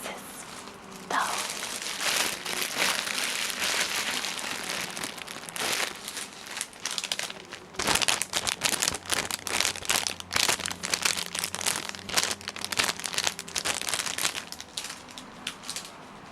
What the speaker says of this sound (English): I'll make a few more crinkling noises